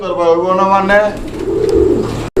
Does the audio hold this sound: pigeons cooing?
yes